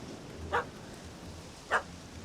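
Dog barking in the video game The Witcher 3: Hearts of Stone, two sharp, fairly loud barks about a second apart over a low, steady ambient background.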